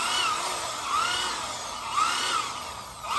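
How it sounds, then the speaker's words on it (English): A power drill whines in short repeated bursts, about once a second, fairly faint against a quiet background. "drill some holes."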